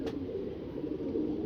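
Pigeons cooing softly in a steady low murmur that runs throughout, close by and fairly quiet, with no talk.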